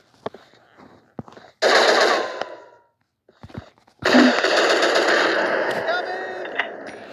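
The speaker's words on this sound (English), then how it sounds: "Shooting these nerds in their ugly face." Gunfire from a mobile first-person shooter game, a few sharp isolated shots followed by two long loud rapid bursts of firing, close and dominant.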